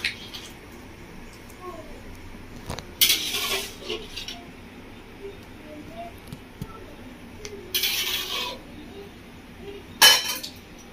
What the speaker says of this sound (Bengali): আলু আর চিকেন জলের সাথে ভালো করে মিশিয়ে নিচ্ছি।